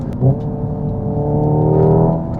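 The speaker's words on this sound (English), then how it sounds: "just downshifting and stepping on it, that's really fun" A Hyundai IONIQ 5 N downshifts and accelerates hard, giving a loud, close, rising synthetic engine-like whir that swells steadily.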